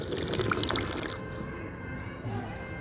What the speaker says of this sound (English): Drinking New York City water.